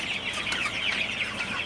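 Chickens clucking softly on a hot day, a faint continuous chatter of several birds with no talk over it.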